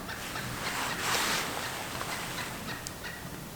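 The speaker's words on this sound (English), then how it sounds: "I got turkeys over here" Wild turkeys gobble from a distance across an open Pennsylvania hillside during deer season, with faint bursts rising over a steady wash of outdoor background noise and no talk.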